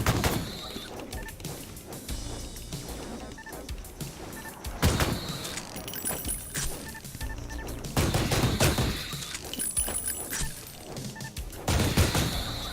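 Ion Maiden gunfire in a boss fight, with loud bursts of rapid shots recurring every few seconds amid game noise and quieter stretches between the volleys, and no talking.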